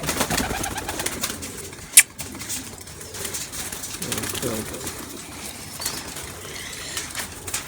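Teddy and kamagar cross-breed baby pigeons heard up close, soft coos and faint wing flaps under low background noise, with one sharp click partway through and someone talking.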